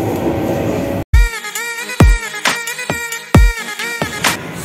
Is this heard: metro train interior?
yes